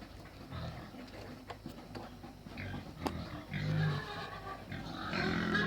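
Pigs in a pigsty give grunts and snorting noises amid rustling and farmyard background, moderately faint, growing louder toward the end.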